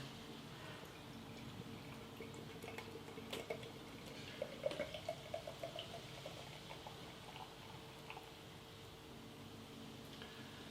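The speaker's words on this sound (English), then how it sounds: "Pouring out very, very nice." Roosters Sawtooth Mountain IPA poured from a can into a glass, a soft steady liquid trickle and gentle splashing that swells slightly midway, heard close but quiet over a faint background hum.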